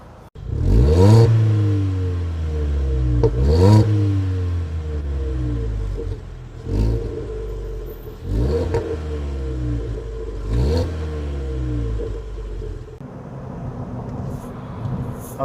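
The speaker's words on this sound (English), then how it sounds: "let's go ahead and take this car on a test drive and see how it performs on the road." A 2019 Ford Fiesta ST-Line accelerates on a test drive, its engine revving up through several gears with rising whines and brief drops at each shift, loud and close from inside the cabin.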